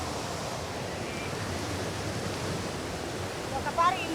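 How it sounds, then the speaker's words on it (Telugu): A waterfall at Pocharam Dam gives off a continuous broadband rushing roar that stays steady and fairly close, with a faint voice or brief sound near the end. "ఈడొక వాటర్ ఫాల్"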